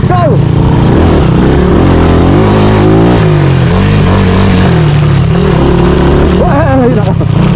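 An upgraded Fury 125 motorcycle bored to 161cc, ridden on a rough rocky trail: its loud, close engine drones continuously and the pitch rises and falls with the throttle, with someone talking over the noise.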